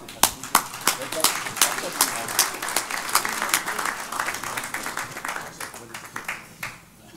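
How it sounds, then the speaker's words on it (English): An audience at a cultivation techniques panel applauds to welcome a speaker, with distinct sharp claps that thin out and fade over several seconds. "Thank you for the warm applause."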